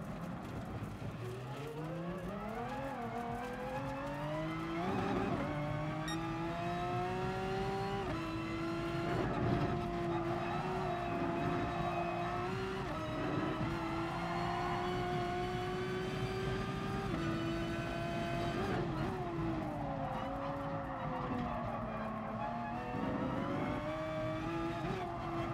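A race car engine in Gran Turismo Sport howls through a lap, revving up and down through repeated gear changes, loud and continuous for the whole stretch with no talking.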